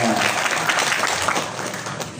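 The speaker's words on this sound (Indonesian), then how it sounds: "kasih tepuk tangan dulu dong" An audience at a pesantren recitation demonstration claps briefly, a dense burst of applause that fades slightly by the end, with a voice faintly over it.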